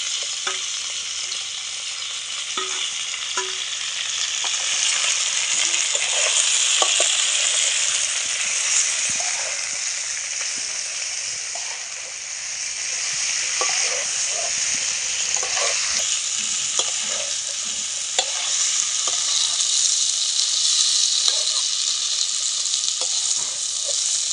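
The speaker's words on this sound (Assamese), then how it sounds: "পিঁয়াজখিনি পূৰা ৰঙচীয়াকৈ ভাজি ল'লে তাৰপিছত এয়া চাব মাংসখিনি এতিয়া দি দিছেগৈ ইয়াত" Pork sizzles steadily in a pan with browned onions, green chilli, ginger and garlic, with frequent stirring clicks and scrapes under a loud, close, continuous frying hiss.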